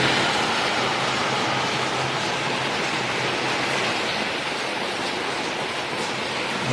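Heavy rain pours steadily during Super Typhoon Uwan before the winds arrive, a dense, continuous broadband hiss that holds level and close throughout with no talk.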